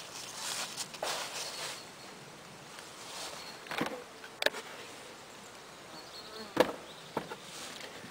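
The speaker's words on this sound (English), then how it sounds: "this one's got bees in it as well" Honey bees buzz around an open hive in a Surrey apiary, a faint, steady hum broken by several close, louder fly-bys, with occasional handling knocks and rustles nearby.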